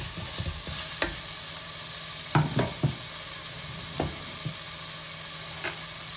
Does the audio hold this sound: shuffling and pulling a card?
no